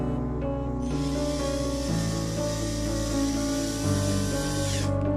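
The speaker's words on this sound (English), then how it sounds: "Just hold it and press the trigger slowly. You can see the chuck is opening." A cordless drill whirs steadily, its motor pitch stepping down twice as the chuck spins open, loud and close with no talking.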